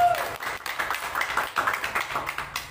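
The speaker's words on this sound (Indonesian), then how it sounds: "Kita berikan aplaus yang meriah kepada Pater." An audience claps for a priest at a Catholic youth talk show about Blessed Carlo Acutis. The applause comes as a steady run of fairly close, rhythmic claps throughout.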